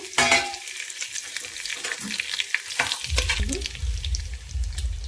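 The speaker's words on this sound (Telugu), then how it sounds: "మసాలా దినుసులు బిర్యానీలో కావాల్సినవన్నీ కూడా వేయించుకుంటున్నాను" Whole biryani spices frying in hot ghee and oil, a close, steady crackling sizzle with scraping stir strokes throughout.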